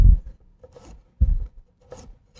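A kitchen knife slicing a vegetable on a cutting board while cutting classical vegetable shapes, with two short, firm chops followed by lighter scraping strokes, close and clear without speech.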